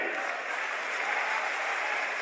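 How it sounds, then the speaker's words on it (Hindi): Audience applause at a public ceremony where a chief minister hands over cheques, a steady faint patter with no pauses. "बस आपकी तालियां बजती रहें।"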